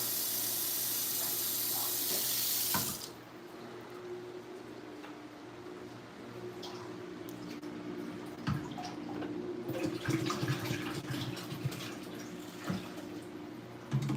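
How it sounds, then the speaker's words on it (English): Tap water pours into a fish tank, a loud rushing stream that cuts off after about three seconds, leaving faint trickles, drips and a low pump hum. "Just get the water level up a bit more."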